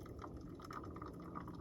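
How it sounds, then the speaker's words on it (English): Freshly boiled water is poured over a paper filter in a Hario V60 cone outdoors on the Pacific Crest Trail near Mount Rainier, a faint, continuous liquid trickle and splash. "put some water in to pre-rinse my paper filter in my Hario V60"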